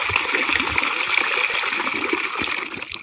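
Water splashes and gushes steadily as it is poured out of a container holding freshly caught lambari fish, a continuous close, wet pouring sound with no speech.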